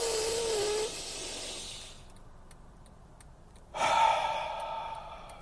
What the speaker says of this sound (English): Breath number 2. Nice and deep, and hold it at the top.